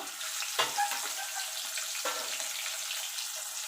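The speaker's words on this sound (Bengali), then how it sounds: "লেজাটাও আমি ভেজে নেব" Ilish (hilsa) fish tail frying in hot oil, a steady close sizzle with a couple of sharper spatters, no voices.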